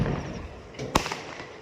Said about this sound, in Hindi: आसमान में पटाखे छोड़े होते हैं